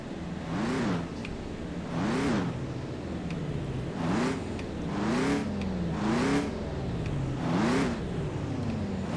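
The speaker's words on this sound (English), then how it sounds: "Not a bad sounding engine." Vehicle engine in Ranch Simulator revving repeatedly, about five rising-and-falling surges spaced roughly two seconds apart, loud and close with no talking over it.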